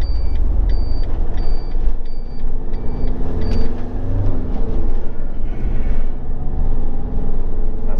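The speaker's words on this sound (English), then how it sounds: "There's a Mini coming." Classic cars, Triumphs and Minis leaving a classic car show, rumble past close by as heard from inside a moving vehicle, with a continuous engine and road drone throughout.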